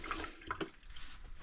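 Water running steadily from an RV tap as the lines are flushed with a bleach solution, a low, even rush with slight splashing throughout.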